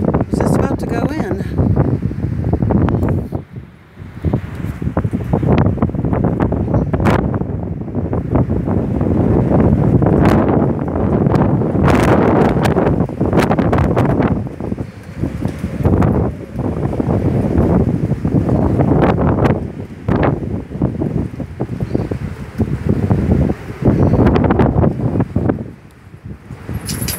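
Strong gusts at Caballo Lake State Park, New Mexico, buffeting the microphone in loud, roaring surges that rise and dip over nearly half a minute, with rustling and a brief lull between blasts.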